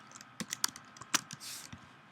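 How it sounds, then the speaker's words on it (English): Keystrokes on a computer keyboard during a digital asset tutorial, a quiet, irregular run of sharp clicks with a few louder taps and a brief soft rustle, no voices. "I'm just going to keep typing and typing"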